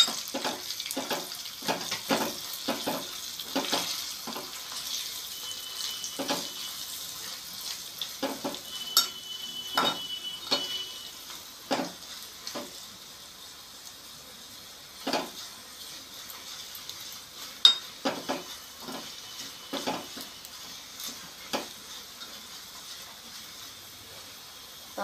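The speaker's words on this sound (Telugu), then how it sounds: "తాలింపు అయితే వేగిపోయింది" Spices for sambar tempering (talimpu) fry in hot oil, giving a continuous soft sizzle broken by frequent spoon scrapes and clinks against the pan over a long stretch.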